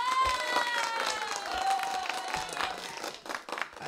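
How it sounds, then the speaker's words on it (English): A short burst of clapping and crowd noise, with voices mixed in over the applause. "thank you for the applause"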